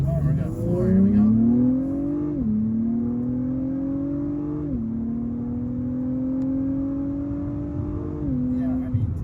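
An Acura TLX Type S turbo AWD sedan accelerates hard at full throttle in sport mode, engine pitch climbing through three or four upshifts, each dropping the tone briefly before it rises again, loud and close from inside the cabin.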